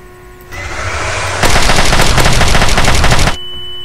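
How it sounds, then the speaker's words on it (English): Sustained automatic fire from a machine gun in Garry's Mod running a Fallout 3 weapons mod, a loud, dense rattle of rapid shots lasting about two seconds. A quieter stretch of firing comes just before it. "This time with a machine gun."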